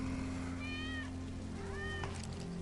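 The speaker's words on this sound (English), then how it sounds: "That's Wedge's cat." In the video game Final Fantasy VII Remake, a cat meows twice in short rising-falling calls over a steady low hum of game ambience.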